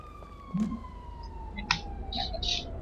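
A faint, steady electronic police siren tone hums in the background in Grand Theft Auto V, with a few short clicks and bursts of game sound effects layered over it.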